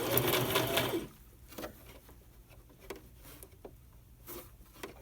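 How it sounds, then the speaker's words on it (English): A sewing machine stitches fabric pieces together in a quick burst lasting about a second, then stops, followed by quiet light handling taps and rustles. "Just sew the three of them together right in the middle."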